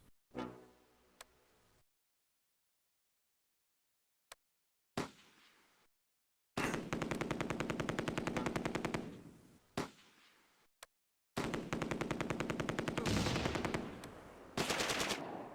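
Bursts of machine gun fire in the Close Combat wargame, set at a Polish drop landing zone during Operation Market Garden: rapid rattling volleys separated by gaps of silence and a few isolated sharp shots, loud and without talk.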